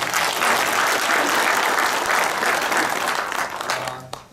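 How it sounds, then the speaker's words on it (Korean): Sustained audience applause at a Naju city mayor's event, dense clapping that stays loud for about four seconds and then tapers off near the end. "시민 모두의 마음을 담아서 여러분 큰 격려의 감사의 박수 한번 부탁드립니다"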